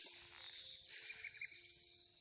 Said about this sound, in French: On entend, il y a le mélange des grillons et le mélange des oiseaux.